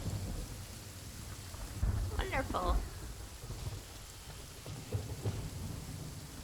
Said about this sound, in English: That is very realistic sounding rain.